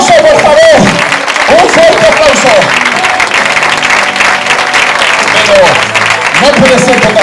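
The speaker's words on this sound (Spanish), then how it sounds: "¡Un fuerte aplauso!" Loud audience applause at a children's show, sustained throughout with a child's or host's voice calling out over it and shouting at the start and end.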